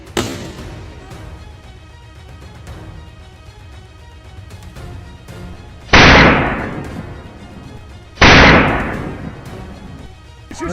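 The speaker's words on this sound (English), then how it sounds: "kept my grip firm on the rifle, and fired repeatedly" A hunting rifle fired twice, each shot a loud close blast with a long decaying boom, the two a couple of seconds apart over quiet outdoor background.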